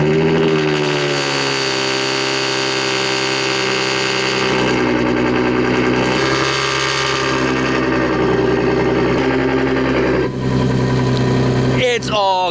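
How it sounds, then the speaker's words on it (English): A slammed Audi Q7 with VORSPRUNG test pipes idles high on a cold start after sitting three days, a steady loud engine drone with rich harmonics running throughout, brief swells near the middle and end. "It's still idling high because it's cold start."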